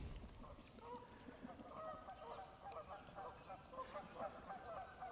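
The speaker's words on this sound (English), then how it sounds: "You have the geese calling" Geese in the Wisconsin Northwoods honk repeatedly at a distance, overlapping calls rising and falling over a soft outdoor background hiss.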